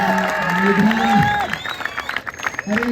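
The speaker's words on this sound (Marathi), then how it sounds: "मंडळाच्या पदाधिकाऱ्यांनी आणि सर्वांनी जोरदार टाळ्या वाजला" Crowd applause and cheering at a village kabaddi tournament, a loud burst of clapping under an amplified announcer's voice and ringing musical tones, fading toward the end.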